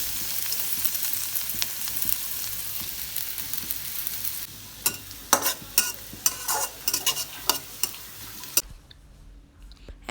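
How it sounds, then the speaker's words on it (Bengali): Garlic frying in two tablespoons of olive oil on a stovetop: a dense hiss of sizzling, then sharper scattered clicks and scrapes of stirring, dropping away to near quiet at the end. "রসুনটা ভাজা ভাজা করে নেব।"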